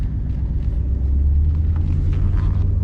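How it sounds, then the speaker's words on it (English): A 2021 Mustang GT V8 running E85 with stainless headers and a Roush cat-back accelerates in regular drive, heard from the cabin as a steady, low, subdued engine rumble without sharp revs. "Normal acceleration, sorry, it accelerates very quietly."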